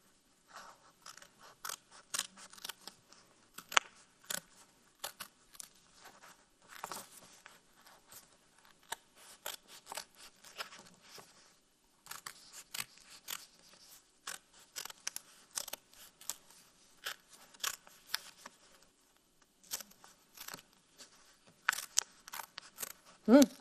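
Scissors cutting through folded paper, a steady run of close, crisp snips and scrapes in irregular bursts, with a brief pause midway.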